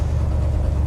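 An old truck engine with badly leaking exhaust manifolds runs steadily, a loud, close, low rumbling idle with a rough ticking pulse throughout.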